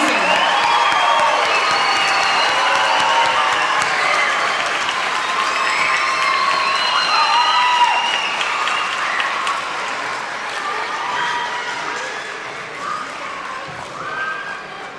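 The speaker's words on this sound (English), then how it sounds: "if you could just give these wonderful artists one more big round of applause" A crowd at a children's art awards event gives sustained applause with cheers and whoops, a broad, loud wash of clapping and shouting voices that gradually thins toward the end.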